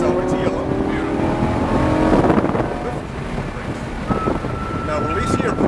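A Lamborghini Huracan accelerates on a race track, its engine droning loud and steady and rising in pitch, with heavy wind rush over the cabin.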